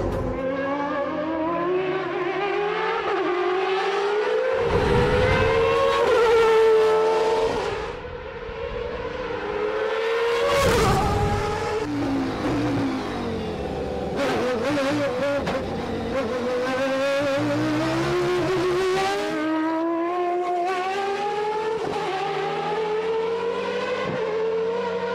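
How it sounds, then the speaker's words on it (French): The Renault Espace F1, a minivan fitted with a Formula 1 engine, screams past with loud, high-pitched revving that rises and falls through repeated gear changes, with its pitch sweeping as it nears and passes. "l'Espace F1, un monospace avec un moteur de Formule 1 dedans"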